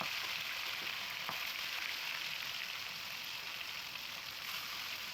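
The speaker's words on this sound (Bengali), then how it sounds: "তো তেল গরম হয়ে গেলে একে একে মাছ দিয়ে দিতে হবে।" Rohu fish pieces deep frying in hot oil, a steady dense sizzle and crackle that runs unbroken and fairly loud throughout.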